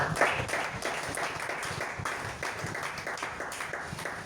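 A church congregation applauds in steady, dense clapping, the many hands blending into a continuous patter with a few sharper claps, and no one speaking.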